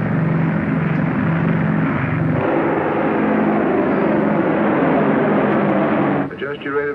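A 1950-era aircraft on final approach to a runway, a loud steady propeller-engine drone that holds throughout and thins out near the end, with a voice talking over it.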